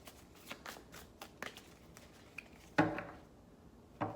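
Tarot cards are shuffled by hand in a run of soft, close riffles and taps, ending in a couple of sharper card slaps, with no talking.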